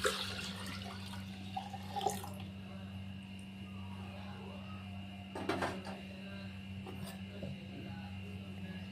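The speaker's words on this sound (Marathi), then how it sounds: "इथं मटक्यामध्ये हे दूध टाकून घ्यायचं।" Milk poured into a clay pot (matka) for homemade curd, giving a soft liquid splash and trickle over a steady low electrical hum, with a couple of brief handling knocks.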